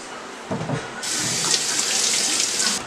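Tap water runs into a sink while cleaned fish are rinsed. It starts with a short splash, then turns into a loud, steady gushing stream that lasts nearly three seconds before cutting off.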